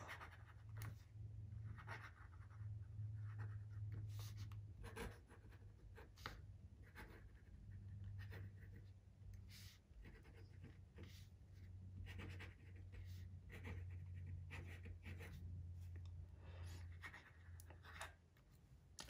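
Fine-nib fountain pen, a Quebeco Sport, scratching across notebook paper in a left-hander's writing sample; soft, close, continuous strokes with brief pauses and a low background hum.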